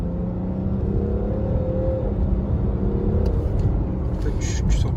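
BMW X6 40d F16 with M package, diesel engine in Sport Plus mode, droning steadily from inside the cabin with a rising tone as it accelerates, while occupants talk over it.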